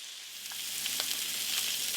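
Salisbury steak pieces fry in a pan just after being flipped, giving a steady close sizzle that builds slightly louder over the two seconds, with faint crackles and no voices.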